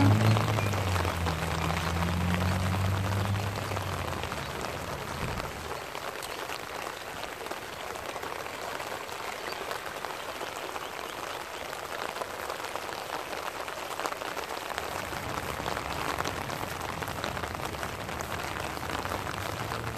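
Steady, heavy rain hissing on surfaces in winter in Sydney, with a constant rushing wash of fast floodwater and a low rumble at the start and end.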